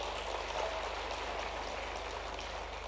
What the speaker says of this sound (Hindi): उनको जोरदार ताली बजाकर उनका स्वागत करें